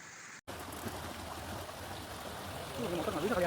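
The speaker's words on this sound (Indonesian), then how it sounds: "Terdengar suara gemericik air ya guys ya di tengah-tengah hutan lindung" A small clear stream trickles in the Halimun Salak protected forest, its soft, steady gurgle continuing close by and growing slightly louder toward the end.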